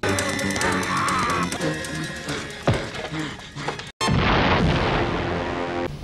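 A missile explosion from the made-for-TV Buck Rogers in the 25th Century film, heavy booming blasts over dense soundtrack noise and music, loud, with a brief cutout before another roaring surge.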